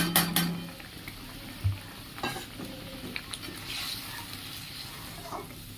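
Ground turmeric, cumin and coriander being stirred into oil and a splash of water in a cooking pan for a taro and prawn curry, with scraping spoon strokes and clinks over a steady sizzle, close and fairly loud.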